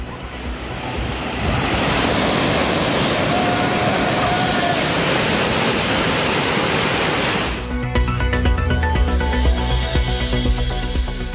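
Roaring torrent at Hogenakkal waterfall where crowds bathe: a loud, steady wash of falling water fills the first seven seconds, then gives way to tonal, music-like sound.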